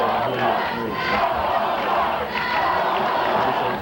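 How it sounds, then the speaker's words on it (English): Loud, steady roar of a crowd cheering in the stands at a 1984 high school football game between Clarkstown North and Clarkstown South, a dense wash of shouting voices that swells slightly and carries on throughout. "The crowd of Clarkstown South is getting into this."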